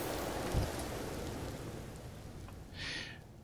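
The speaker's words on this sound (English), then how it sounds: "Storming again as usual outside. Raining." Steady rain and storm ambience in the survival video game Empyrion Galactic Survival, a continuous hiss of rainfall with a low rumble and a brief soft swell near the end, heard alone without talk.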